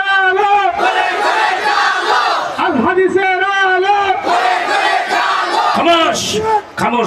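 A large crowd at a Bangla religious sermon answers a leader's call with chanted takbir, rhythmic bursts of many loud voices that rise and fall in repeated waves.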